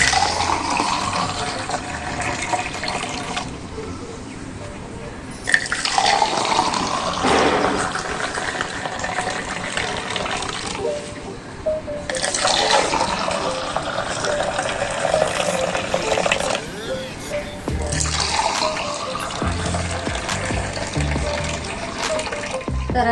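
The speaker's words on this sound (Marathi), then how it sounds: "सरबत झालेली आहे ती एका ग्लासमध्ये मी ओतून घेते" Homemade jamun sharbat splashes and trickles into a glass in several separate pours with brief pauses, heard close up and without talk.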